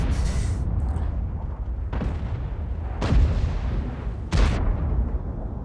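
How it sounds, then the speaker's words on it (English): HE shells from a Pershing tank in a tank battle video game: three heavy, sharp booms arrive a second or so apart over a constant low engine rumble, each blast followed by a brief rolling tail. "Now somebody's firing HE at you. That would be that Pershing."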